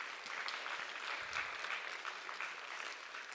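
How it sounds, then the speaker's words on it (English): An audience at a college agricultural business presentation evening applauds the students with soft, continuous clapping that sounds distant and faint and stays even throughout. "Let's give one more big round of applause to all the students today."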